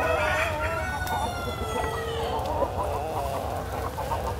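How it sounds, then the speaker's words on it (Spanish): Chickens cluck steadily and a rooster crows at a rescue farm sanctuary where ducks and geese are also kept, the flock sounding close and busy over a constant low rumble, with no talking. "en estos lugares las gallinas anidan y duermen"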